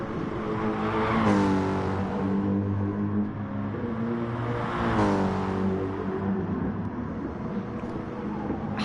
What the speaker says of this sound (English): rest assured that BMW is very fast as Ridwan skates it in on the rear brakes in